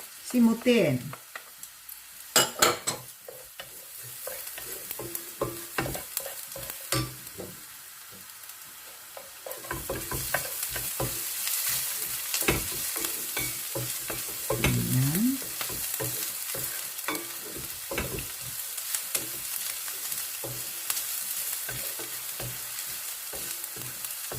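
Garlic sautéing for a chayote and ground meat dish sizzles in the pan under repeated sharp scraping and clanking of a spatula. The strokes come in quick clusters, and the frying hiss swells louder in the second half.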